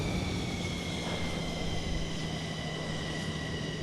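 A steady, droning aircraft engine hums continuously at close range, with a constant low tone and a broad wash of noise and no pauses.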